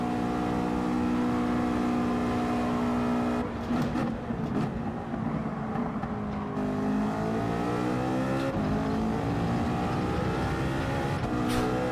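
A race car in Gran Turismo 7 drives hard, with a loud, continuous engine drone, rising revs and shifting pitch as it accelerates, plus a few sharper bursts along the way.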